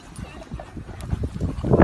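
Puppies playing and biting each other, with scuffling, soft growls and small yips close by, busy and uneven, building louder toward the end.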